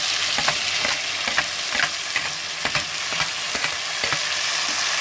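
Tomatoes frying in a pan after browning, a continuous bright sizzle with sharp clicks and scrapes from stirring spaced through it, close and alone without talk.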